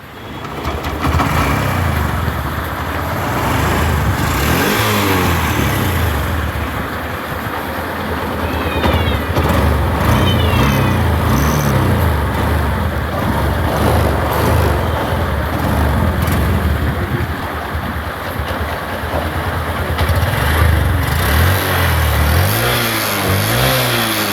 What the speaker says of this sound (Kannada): ಗಾಡಿ ಸ್ಟಾರ್ಟ್ ಮಾಡಿ ಕಂಡೀಷನ್ ತೋರಿಸ್ತೀನಿ